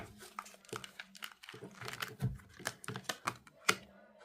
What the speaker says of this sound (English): so let's flip these cards.